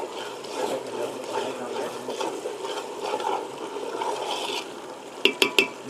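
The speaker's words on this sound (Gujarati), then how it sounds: "બે મિનિટ મરચું સડવા દેવાનું." Chillies for Gujarati baingan olo fry in an oily pan, a steady soft sizzle and stirring rustle that runs throughout, with a few sharp utensil taps at the very end.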